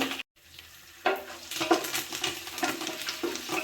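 Cumin and curry leaves sputtering in hot coconut oil, a brief silent gap followed by a sudden rise into a continuous close sizzle with crackles.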